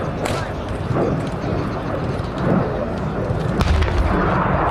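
An artillery gun fires during a Canadian Forces combined military exercise, a low boom cutting through steady broadband rumble and wind-like noise, with another sharp report later, distant rather than close.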